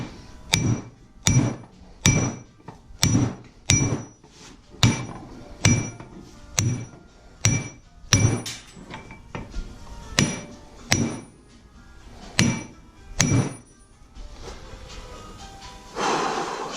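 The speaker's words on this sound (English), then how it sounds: "I'm just gonna have to give it some harder hits now." Repeated heavy hammer blows on the lower ball joint of a 2004 Honda Accord, about a dozen sharp metallic strikes in a steady rhythm with a few quieter taps near the end, close and loud.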